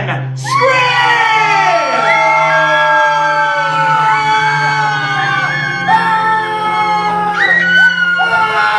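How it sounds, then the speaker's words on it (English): Las Vegas hypnosis show audience at the Four Queens screaming together on cue, a loud sustained crowd of overlapping shrieks and yells holding for several seconds with rising and falling pitches. "3, 2, 1, scream!"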